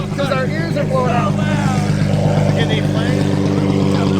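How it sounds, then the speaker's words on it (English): Loud, continuous exhaust roar from a straight-piped Lamborghini Aventador reverberating inside a road tunnel, a steady engine drone filling the whole clip, with a voice shouting over it briefly near the start. "People trying to film your exhaust with one hand like that because our ears are blowing out."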